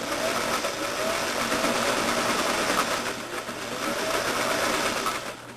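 A sewing machine stitches steadily along the top of a collar, a continuous close whirring hum with a fine rapid needle patter and no talk.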